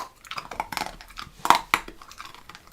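A dog chewing a biltong treat, uneven wet crunching and clicking bites close by, irregular bursts over a quiet background.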